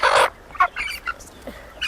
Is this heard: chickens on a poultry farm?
yes